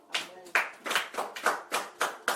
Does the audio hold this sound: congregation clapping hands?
yes